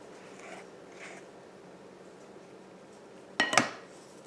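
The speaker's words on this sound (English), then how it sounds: "let me move this bowl some" A mixing bowl shifted on a kitchen counter while chocolate cake batter is being divided, one sharp scraping clatter near the end after a quiet stretch, close and brief.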